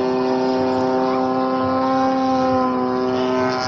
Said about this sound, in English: Since this is a gas plane